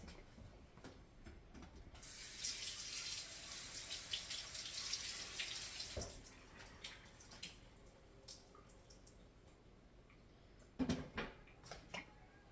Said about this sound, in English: And then I just rinse this out.